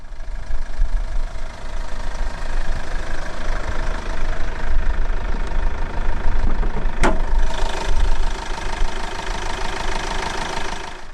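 A 2014 Hyundai i30 1.6 CRDi inline-four turbo diesel idles steadily at close range, a dense, even clatter with a brief sharp click partway through and no talking.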